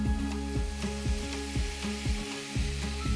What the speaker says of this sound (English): we're now ready to cook the pork. I've got a hot griddle pan here